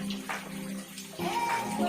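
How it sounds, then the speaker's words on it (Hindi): Water from a cow-mouth spout splashes continuously onto a Shiva lingam at a temple at Ghotiya Amba in Banswara, Rajasthan. The steady close splashing runs under a voice. "यहाँ पे गौमुख से पानी शिवलिंग के ऊपर पूरे वर्ष भर गिरता रहता है"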